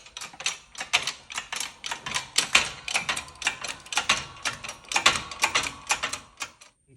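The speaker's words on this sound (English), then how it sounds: "Harbor Freight press." A Harbor Freight press works a mechanical seal into an ATV water pump from a Yamaha YFZ450R rebuild, producing a quick, rhythmic series of sharp ratcheting clicks at close range.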